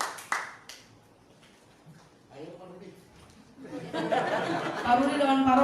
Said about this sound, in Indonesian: Kita berikan tepuk tangan yang meriah bagi Tuhan Yesus.